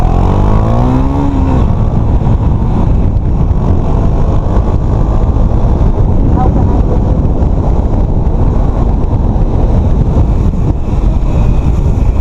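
A 2017 KTM Duke 250 motorcycle revs while being ridden through Bangalore, its engine note rising briefly at the start before heavy wind buffeting and road roar take over and stay loud throughout.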